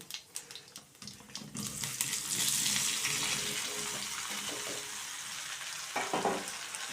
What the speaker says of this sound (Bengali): নুন হলুদ মাখানো এই কুলগুলো সাঁতলে নেবার পর